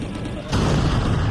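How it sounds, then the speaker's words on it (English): An explosion goes off in the third-person shooter GunGrave G.O.R.E, a sudden loud burst of low rumbling noise that kicks in partway through and stays dense and sustained to the end, layered over ongoing game sound. "Oh, it's got an explosion in here, my guy."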